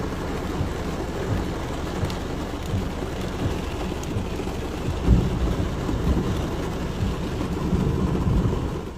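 Heavy storm rain pours steadily over the flooded coastal lower town of Karlobag, Croatia, a dense continuous roar with gusty swells and a low rumble midway.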